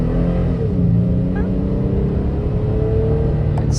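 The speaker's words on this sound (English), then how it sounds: "You guys ready for that Toyota Tacoma acceleration vid?" A Toyota Tacoma TRD Pro accelerating hard, its engine droning and rising steadily from under the hood as the truck punches forward, loud and continuous throughout with no pause.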